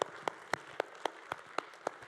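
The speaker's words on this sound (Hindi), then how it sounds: "मैम के लिए एक जोरदार तालियां हो जाए।" Audience clapping at a school annual day function, heard as sharp individual claps at a steady beat over a low background murmur in a hall.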